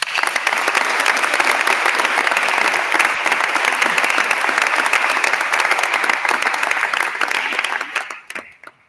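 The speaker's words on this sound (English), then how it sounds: "a big round of applause for Owen McGrory" Sustained, dense applause from an audience at a school board meeting, loud and even throughout before fading out quickly at the end.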